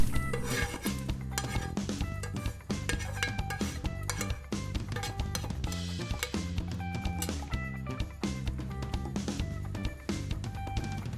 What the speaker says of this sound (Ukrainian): Готову засмажку висипаємо в каструлю.